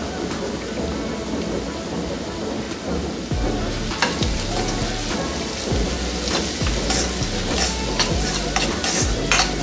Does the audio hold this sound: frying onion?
yes